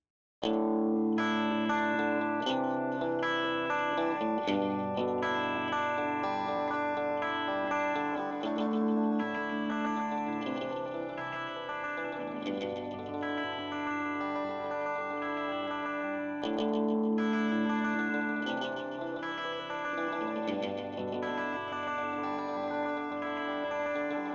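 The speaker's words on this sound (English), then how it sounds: "about 80 to 100 milliseconds lets the delayed sound be heard as a separate repeat, with longer times being common" Layered, effects-processed music with distinct delayed repeats trailing each note, giving an echoing, spacious sound that stays full and steady throughout without any talking.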